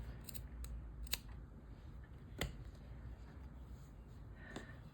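Scissors snipping crochet yarn for a drawstring bag, a few sharp, close cuts spaced irregularly over a low steady room hum.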